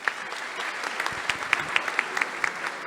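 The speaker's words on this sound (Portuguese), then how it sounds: "parabéns, palmas para ele, gente." A conference audience claps steadily for several seconds, with crisp individual claps standing out above a moderate, even wash of applause.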